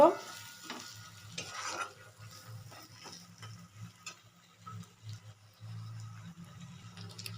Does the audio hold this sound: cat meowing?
no